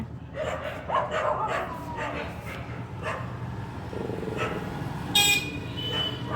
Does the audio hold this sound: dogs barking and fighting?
yes